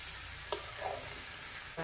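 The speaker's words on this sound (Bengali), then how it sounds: "ফুলকপিটা আমি ভালো করে ভেজে নেব।" Cauliflower fries in a pan with spices for a potato and cauliflower curry, a soft continuous sizzle broken by a couple of brief scraping stirs.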